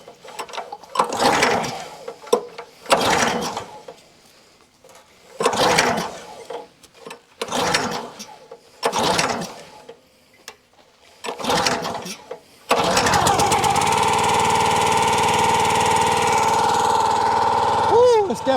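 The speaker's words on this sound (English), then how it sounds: "Normally this starts up in 2 to 3 pulls, but it's been a cold week." A Countyline 25 ton log splitter engine takes several pull-start attempts on a chilly day, each pull a short rasping burst separated by pauses, before it catches and settles into a loud steady running drone.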